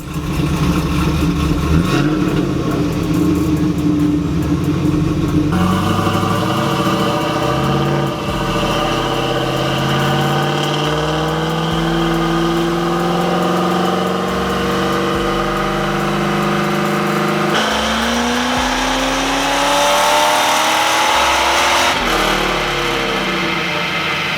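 A 2002 Camaro SS with its LS1 V8 pulls hard on a chassis dyno, rising through the revs with a loud, continuous roar and shifting pitch sweeps that carry on alone across the whole run.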